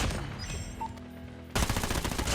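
Rapid automatic fire from the OTs9 in Call of Duty Mobile, a quiet stretch of game ambience and then a sudden loud, dense burst of shots that runs to the end.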